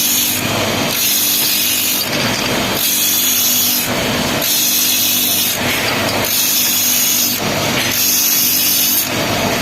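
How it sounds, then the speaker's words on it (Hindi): Motorcycle brake shoes being ground in a factory, a loud continuous abrasive grinding that surges and eases in repeated strokes of roughly a second or two, with no talk. "अब एक बार फिर से इन पर घिसाई का काम किया जाता है"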